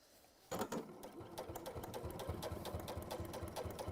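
A sewing machine starts up and stitches through interfacing, a close, steady rapid mechanical chatter with a regular needle rhythm that continues throughout, no speech.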